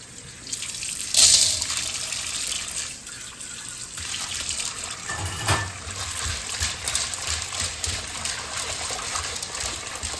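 Tap water gushes over dried hominy in a sink, starting with a loud splashing burst, then a steady running stream with small shifts and splashes as the kernels get rinsed.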